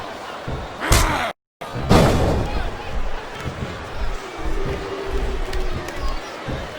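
A sellout crowd in WWE SmackDown vs Raw 2007 roars and cheers steadily throughout, with thuds and slams from the wrestling match near the start.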